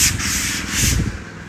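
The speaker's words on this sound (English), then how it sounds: "So there's sanding going on." Sanding on a freshly mortared wall at a concrete house build site, a close, loud rasping rub in two or three short strokes with no talk.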